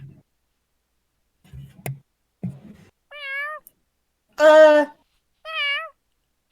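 A cat meows as a sound effect during a Dungeons & Dragons tabletop session: three clear, close meows with rising-falling pitch, preceded by a few faint clicks and a brief murmured voice.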